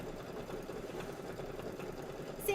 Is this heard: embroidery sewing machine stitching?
yes